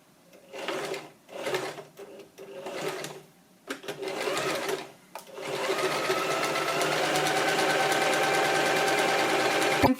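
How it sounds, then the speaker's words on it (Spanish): A sewing machine stitching a children's vest gives short bursts of rapid mechanical stitching separated by pauses, then settles into one long continuous run, close and steady. "Y ahora ya podemos pasarlo a máquina."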